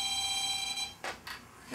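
An EMF meter held near a switched-on cell phone gives a sustained high electronic tone, then two sharp beeps in quick succession.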